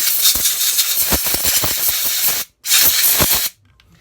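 Compressed air blasts loudly through the body of a mini quad carburetor in two sharp hissing bursts, the first long and the second short, with a brief gap between them.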